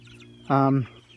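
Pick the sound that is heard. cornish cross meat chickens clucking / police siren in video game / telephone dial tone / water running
cornish cross meat chickens clucking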